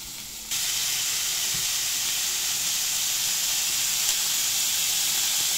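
Prawns laid on a bed of salt on a well-heated griddle burst into loud, steady sizzling and hissing that starts abruptly and continues unbroken, close and without talk.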